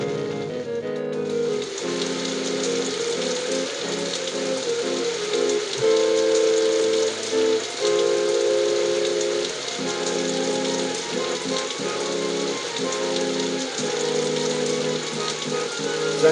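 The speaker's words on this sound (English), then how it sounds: "The firestorm surrounding the protective circle is replaced by a deluge of water." Rain deluge in the video game Death Gate, a dense steady hiss of pouring water running throughout, with a tonal, whistle-like layer sustained beneath it and no talking.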